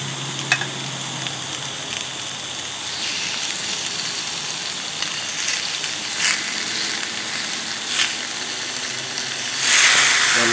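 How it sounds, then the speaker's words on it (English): Filet mignon steaks hiss and sizzle steadily on a preheated grill with a little oil, the frying crackle constant and close, with a few brighter pops and a louder surge of sizzle at the end. "let's get these steaks on here. I've had this grill heating up for a while."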